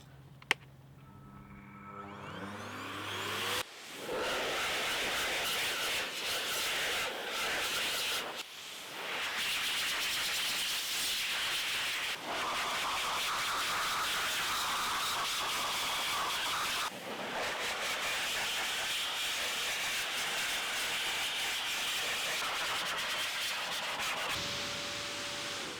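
Blow Air RS car dryer blasting water off a Mercedes-Benz CLS, a loud steady rushing roar that starts a few seconds in and runs continuously, briefly dipping a few times, before cutting out near the end.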